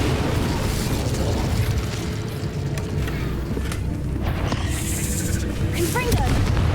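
Incendio fire spell cast in Hogwarts Legacy combat against spiders, a roaring whoosh of flames amid booming blasts and crackling effects, loud and continuous, with a voice speaking over it.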